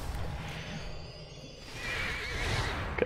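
A horse in the Lord of the Rings Online video game gives a single neigh over a low ambient game background, with a faint whoosh.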